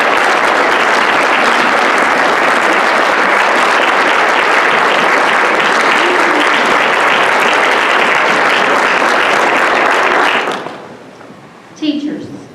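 A banquet audience of parents stands and applauds students, producing loud, dense, sustained clapping that cuts off abruptly near the end, followed by a brief voice.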